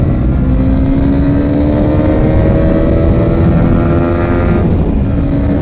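Honda CB 300 motorcycle engine revving loud and close, pitch climbing steadily as it accelerates through the gears, a continuous drone with a brief dip at a gear change near the end.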